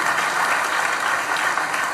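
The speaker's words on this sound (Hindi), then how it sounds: "जोरदार तालियां मेरे भाई के लिए" Loud, dense applause from an audience at a scholarship award ceremony fills the whole stretch, steady and continuous with no break.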